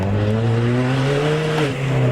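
A Ford ST car engine revs up loudly and steadily while accelerating out of a corner, pitch climbing, close and continuous with a brief dip near the end.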